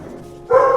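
A young Beagle-mix dog, about a year old, gives a single short bark near the end after a quiet pause, close and fairly loud.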